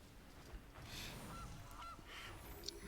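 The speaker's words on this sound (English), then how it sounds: "I love the sound effect the goose makes." A goose sound effect in a Magic: The Gathering video game, a few honking calls spread over a low background, fairly faint and brief.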